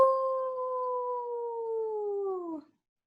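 A storyteller's voice imitates a wolf howling: one long, steady, sustained howl with a clear tone that holds for over two seconds, slides slightly downward and then cuts off, heard alone and close.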